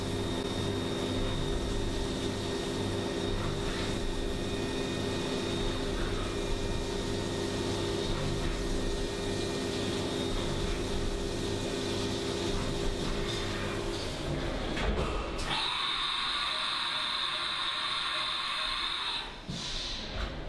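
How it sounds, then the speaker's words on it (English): Machine drilling a 4mm hole through a closed deck Subaru engine block gives a loud, steady whirring hum with tonal whine that shifts to a higher, thinner pitch near the end, with no talk. "This drill runs through the block so easy."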